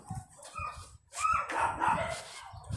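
A dog barks and yips in a domestic setting, giving a few short, moderately distant barks and whimpers in two bursts separated by a brief pause.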